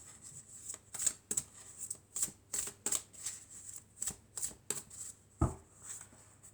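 Oracle cards being shuffled for a reading, a quick run of crisp riffling flicks in an even rhythm, close and alone, ending with a firmer tap as the deck settles.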